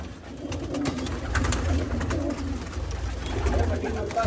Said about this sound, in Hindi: ये कबूतर है भाई, सारे नए नए कबूतर हैं।